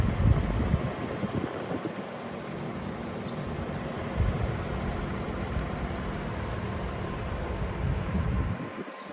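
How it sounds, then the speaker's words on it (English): A 2016 Audi A8 L with a 4.0-liter twin-turbocharged V8 idling with a low, steady rumble close by, even and continuous with faint mechanical ticking over the top. "this is equipped with a 4-liter twin turbocharged V8 engine."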